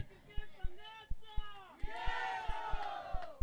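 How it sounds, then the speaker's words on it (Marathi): Crowd at a prize ceremony, voices shouting and whooping with a rhythmic thumping beat, while someone talks over it. "टाळ्या होऊ द्या, टाळ्या वाजवायला पैसे लागत नाहीत"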